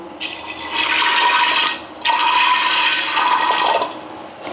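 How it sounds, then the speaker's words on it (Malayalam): Water pours in a loud steady gush into a pressure cooker of pumpkin and beans, pausing briefly once before streaming again, close and with no voices. "ഇനി നമ്മൾ അതിലേക്ക് പാകത്തിന് വെള്ളം ഒഴിച്ച് കൊടുക്കാം."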